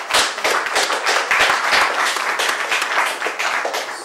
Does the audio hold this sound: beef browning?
no